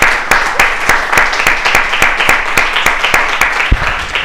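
A crowd at a church worship service applauds with steady, rhythmic clapping, close and loud, with no voices over it.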